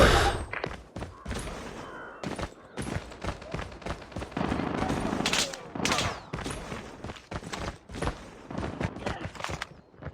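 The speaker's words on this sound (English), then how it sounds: "Sentry gun deployed." Sentry gun firing during a Call of Duty Mobile ranked match: rapid, loud bursts of automatic fire in uneven runs, mixed with thuds and other battle noise, running for several seconds.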